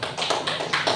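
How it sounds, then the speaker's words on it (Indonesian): A classroom of students applauds a student group, a dense, loud burst of clapping lasting about a second with no talk. "Kita kasih aplaus untuk kelompok 3."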